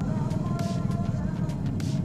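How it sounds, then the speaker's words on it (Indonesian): Midday traffic jam on a crowded Makassar street, with a steady low rumble of idling and creeping vehicles close by, faint voices and horn-like tones mixed into the continuous din. "Macet ini teman-teman, ini waktu siang macet."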